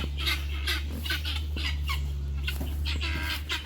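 Repeated harsh squawking calls from several fowl, rising and falling in bursts over a steady low hum, fairly close and noisy.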